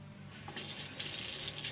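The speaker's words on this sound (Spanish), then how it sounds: "¿Veis que el agua cae a golpes?" A camper van's water tap with an expansion-vessel fault sputters, water splashing out in uneven bursts after a brief quiet start, close and fairly loud with no talking.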